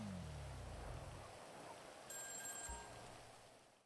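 A phone ringing in the video game GTA 5 Online, a faint electronic ring that starts partway through and rises over a steady hiss of rain-like ambience.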